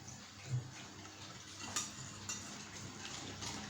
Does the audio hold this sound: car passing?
no